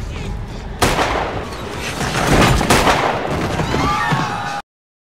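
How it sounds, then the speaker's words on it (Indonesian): A guard fires a gun into the air, giving a sudden loud blast followed by a second sharp report amid dense, rumbling noise and chaotic crowd-like clatter. "Penjaga itu menembakkan senjatanya ke udara"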